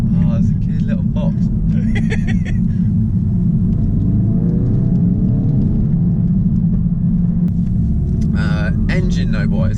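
Engine and exhaust of a 2016 Ford Focus RS while driving, a steady loud low rumble heard from inside the car, with people talking over it throughout.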